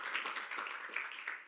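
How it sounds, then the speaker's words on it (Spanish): A church congregation clapping during a sermon, a soft, fairly distant wash of many hands, steady throughout with no clear voices. "Vamos, denle un aplauso."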